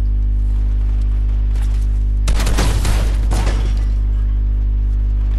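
Gunfire breaks out in a Fortnite squads ranked match, a dense burst of rapid shots lasting around a second over a constant low electronic hum, with no voices during the volley.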